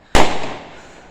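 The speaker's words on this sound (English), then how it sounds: "Fireworks and they're already laying them off and scaring the life out of me." A single sharp firework bang goes off on Bonfire Night, loud and close, with a long rumbling tail that fades over about a second.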